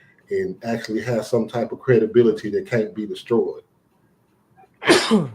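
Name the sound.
sneeze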